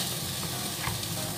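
Steady sizzling of chicken frying in a hot wok, a continuous crackling hiss with no voices.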